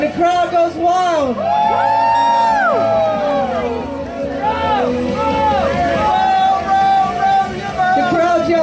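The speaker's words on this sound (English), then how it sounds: "And the crowd goes wild." Crowd at a cardboard boat regatta yelling, whooping and cheering loudly and continuously, with shouted voices rising and falling over the racing rowboats and people talking throughout.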